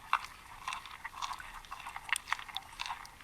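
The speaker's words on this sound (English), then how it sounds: "Here's manatees chewing." Manatees scrape algae off a wall underwater, producing a steady run of soft crunchy chewing clicks and bites, close and moderately quiet, with nobody talking.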